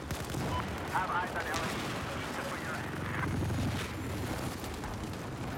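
Battlefield 4 gunfire on the Silk Road map: a dense, continuous rattle of shots and booming blasts fills the whole stretch, loud and close, with faint voices mixed underneath.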